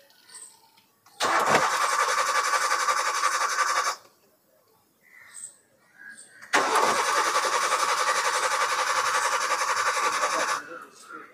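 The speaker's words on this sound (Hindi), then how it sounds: "मैं इसको एक बार क्रैंक करके दिखाता हूँ" Starter repeatedly cranks a car engine that has stalled while driving and now fails to start, two long sustained bursts of loud churning cranking separated by a short pause, with people talking nearby between attempts.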